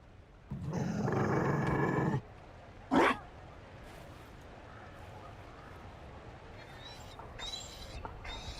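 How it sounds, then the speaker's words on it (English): A Mabari war dog in the video game Dragon Age Inquisition gives a drawn-out growl for over a second, then a short, sharp vocal burst, followed by faint scattered noises against quiet ambience. "You found a dog? They don't breed Mabari in Olay."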